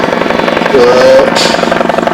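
A rescue helicopter flies over mountains, its rotor chop a dense, steady pulsing throughout, loud and near, with a brief whine and a swell of rushing noise as it passes overhead.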